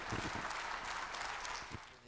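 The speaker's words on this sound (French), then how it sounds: "On peut les applaudir et les remercier." Moderate audience applause for four panel speakers at an economics discussion event, a steady wash of clapping with a voice talking over it.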